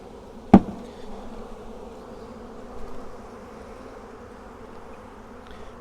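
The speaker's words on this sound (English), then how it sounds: "And there are lots and lots of bees in here." A sharp knock at the start, then a low, steady hum of many honeybees buzzing close by inside a package box during installation, droning evenly throughout.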